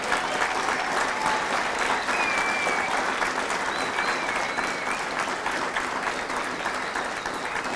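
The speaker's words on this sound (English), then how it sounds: "please join me in a round of applause for the company staff of Company F" A crowd at a Marine recruit graduation ceremony at MCRD San Diego applauds loudly and continuously for the Company F staff, dense clapping holding steady throughout.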